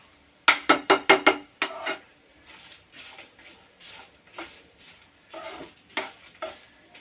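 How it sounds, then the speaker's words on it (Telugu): Nalleru (veld grape) stems fry in a pan with a quick burst of clattering stirs at first, then softer intermittent scraping and stirring over a faint background sizzle. "కొంచెం ఓపిక్గా ఇలాగా వేయించుకోవాలి"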